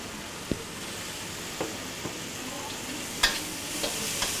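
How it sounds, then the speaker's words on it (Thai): Quiet sizzling of crispy pork frying in a hot wok, with a few sharp scraping clicks of a spatula stirring at irregular moments. "หมูกรอบสุกแล้วไม่ต้องผัดนานนะครับผัดให้หอม"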